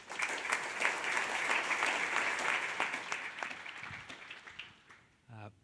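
A conference audience at an insurance industry panel gives sustained, dense applause that fades out over several seconds, followed by a brief voice.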